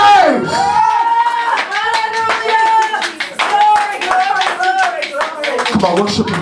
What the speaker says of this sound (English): Somebody clap your hands, stomp your feet and give him praise.